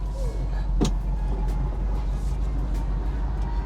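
Rush hour road traffic flows around a 1968 Ford Mustang convertible waiting to turn left, a steady low rumble of passing cars with one brief sharp whoosh going by.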